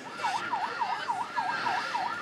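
An ambulance siren in Liberia during the Ebola outbreak wails in a steady rising-and-falling cycle, about seven sweeps in quick succession, loud and close with no talking.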